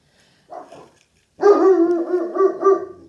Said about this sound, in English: we don't want to hear you barking